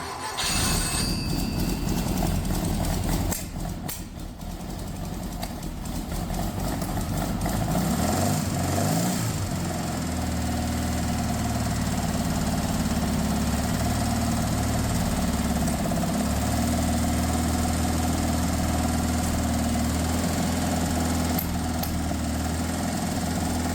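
A 60-year-old Porsche 912 engine cranks with no fuel, then catches and settles into a steady, loud, rumbling idle with a slight knocking vibration, close up and with no talking.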